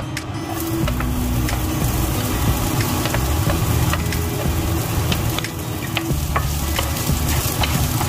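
Onion frying in spread oil with a steady, loud sizzle and occasional stirring scrapes, while an exhaust fan hums continuously underneath throughout.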